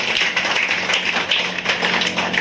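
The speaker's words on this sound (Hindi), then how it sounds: "तो एक बार अपने प्रोफेशन के लिए जोरदार तालियां हो जाए" Audience clapping at a Hindi-language sales training seminar, a dense, steady patter of many hands filling the room at moderate loudness, with no speech over it.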